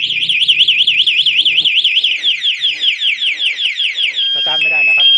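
A TEXNO Super Two Way motorcycle alarm installed on a Honda CB300R wails loudly and continuously with a rapid warbling siren that shifts pattern near the end, with faint talk underneath.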